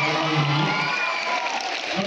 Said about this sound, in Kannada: ಜೋರಾದ ಚಪ್ಪಾಳೆಯೊಂದಿಗೆ ಅವರಿಗೆ ಶುಭಾಶಯಗಳನ್ನು ತಿಳಿಸಬೇಕಾಗಿ